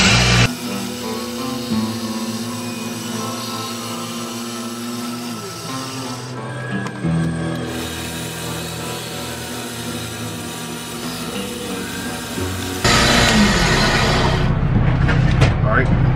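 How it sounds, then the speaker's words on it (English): A Buck 110 knife blade being sharpened on a belt grinder: a steady, loud, continuous grinding hum with a rough rasp, running throughout and briefly changing in tone partway. "Now we're just gonna finish sharpening."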